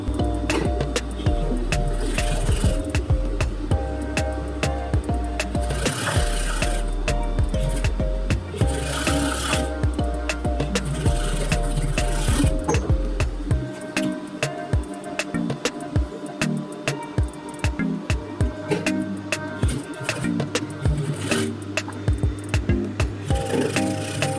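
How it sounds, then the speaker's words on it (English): A sewing machine stitches the shoulder seam of a wrap dress. Its rapid mechanical whir runs continuously and close up, then shifts to slower intermittent stitching with clicks partway through. No one speaks. "Let's stitch this shoulder seam real quick."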